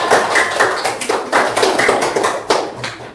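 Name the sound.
audience clapping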